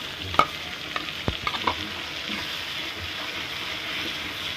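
Prawn paste and chopped tomato sautéing in a pan with salt, giving a steady close sizzle with a few sharp spoon clinks against the pan early on.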